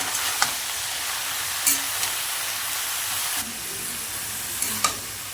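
Snake gourd with green chilies, salt and turmeric stirred in a hot pan: a steady, close sizzle of frying with a few sharp utensil scrapes and taps against the vessel.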